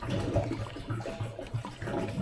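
Water pours steadily into a plastic tote on a building site being readied for poured footers, a close, continuous gurgling splash with no voices.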